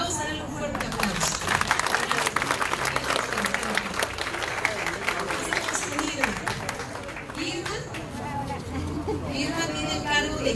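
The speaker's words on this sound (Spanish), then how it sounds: "Vamos a darle un fuerte aplauso." A crowd at the inauguration of a naturism centre gives strong, sustained applause that stays loud and steady throughout, with cheering and crowd chatter mixed in.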